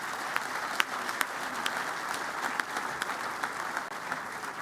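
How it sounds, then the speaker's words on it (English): An outdoor crowd at a university stadium groundbreaking ceremony claps steadily for several seconds, a dense, even wash of applause with a few sharper claps standing out. "Let's give them a big round of applause."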